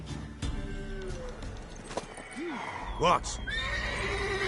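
A mare in a PS4 video game neighs loudly in a few rising and falling whinnies, with hooves clopping and a voice speaking briefly over the game sounds.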